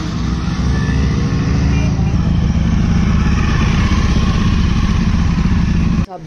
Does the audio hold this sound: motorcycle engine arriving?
yes